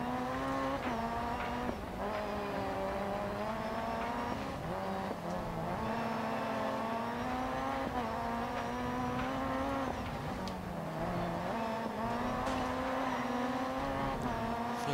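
Rally cross race cars in the DiRT 4 video game, RX2 Trophy event, with a steady loud engine drone rising and falling in pitch through gear changes, tire noise and brief impacts continuous throughout.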